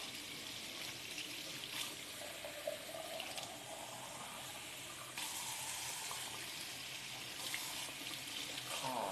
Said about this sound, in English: I'm just getting some hot tap water